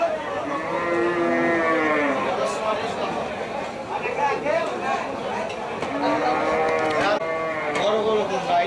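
Cattle at a crowded Eid sacrificial cattle market in Saturia, Manikganj moo repeatedly, several long lowing calls rising from the animals amid constant background chatter and people talking nearby.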